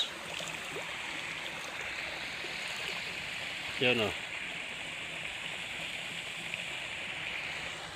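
Water flows steadily from Bustos Dam, a constant broadband rushing like a stream. A person speaks briefly partway through over the continuous flow.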